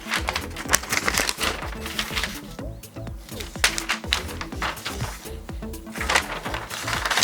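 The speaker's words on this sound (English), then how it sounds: "I will say this is some exceptionally crinkly paper." Crinkly paper safety guideline sheets for DJI Goggles 3 being handled up close, with dense, continuous crackling and rustling throughout, loud and busy without pause.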